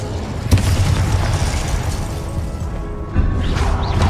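Spell-casting blasts from Incendio and Confringo in the Hogwarts Legacy game, a dense roaring barrage of bursts and booms with a sharp impact near the start and another surge toward the end.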